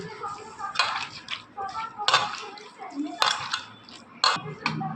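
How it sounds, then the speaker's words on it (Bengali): Wet squelching and clinking as fish spice paste is kneaded by hand in a metal bowl, in irregular bursts of contact, close up, with a voice talking at times. "এটা হাতেই মেখে কিছুটা মজিয়ে দিতে হবে।"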